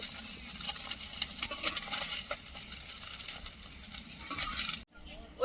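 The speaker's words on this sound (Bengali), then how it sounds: "মাছগুলো ভাজা হয়েছে তুলে নেবো" Fried tengra fish sizzling in hot oil in a kadai, a dense steady crackle lifted out near the end with a brief metal scrape, then a short pause.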